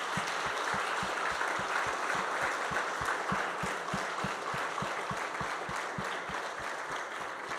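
Church congregation applauding to God at a worship service, sustained crowd clapping with a steady rhythmic low thump running underneath throughout, no speech.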